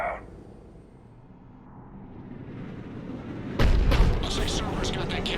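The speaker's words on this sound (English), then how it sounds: "Looks like Cerberus got that cannon operational" A Cerberus cannon fires in Mass Effect 3, landing as a sudden loud broadband boom partway through and followed by a rumbling, crackling tail over a steady low battlefield drone.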